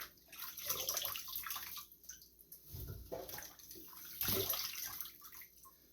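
Apples are lifted out of a water bath and rinsed, giving faint splashes and trickling pours in several short bursts, close and quiet.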